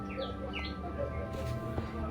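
Birds chirp in a short burst of small high tweets inside a Minecraft survival game, moderately close over a faint steady background hum.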